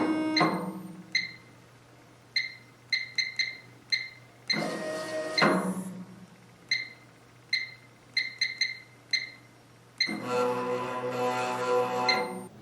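A Number Pro Touch numbering machine runs in feeder mode at 1,000 RPM, giving repeated sharp mechanical clacks and chirps in an irregular rhythm over a steady hum, with two louder bursts of rushing paper-feed noise.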